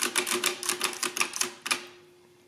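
Number keys being pressed on a Facit CM2-16 mechanical calculator, producing a rapid, close series of crisp mechanical clacks in an uneven rhythm that stops abruptly, leaving a faint steady hum.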